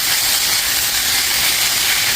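Chicken pieces hitting a hot pan with garlic and onion, a loud, dense, continuous sizzling hiss up close, with no talking.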